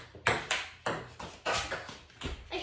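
Ping pong ball struck hard several times in quick succession, sharp close pings with short bounces between them, fairly quiet overall.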